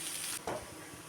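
Okra sautéing with rock salt in a hot pan gives a brief, soft sizzle with a quick stirring scrape, fairly quiet and close.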